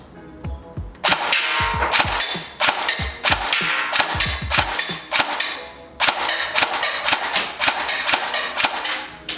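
A Golden Eagle MCR airsoft LMG fires G&G 0.28 g BBs outdoors on semi-auto, giving a run of loud, sharp, closely spaced pops in quick bursts with no talking.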